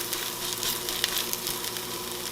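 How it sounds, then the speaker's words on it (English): Onions sweating toward caramelized in a pan give off a steady, soft, close sizzle with a few small pops, the frying hiss dull and settling rather than vigorous. "I don't know if you can hear, but the sizzle isn't sizzling as much"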